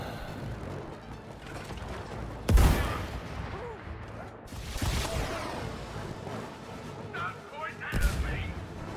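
A rocket blown up in the co-op game It Takes Two, with a sharp explosive burst near the start, a later rumbling blast and another hit near the end, amid game effects and background voices.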